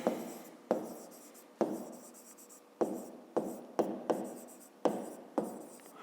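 A pen writes on paper in short repeated strokes, each a quick scratchy tap fading off, about ten in a row with brief pauses, close and alone, while working a fifth-grade maths exercise.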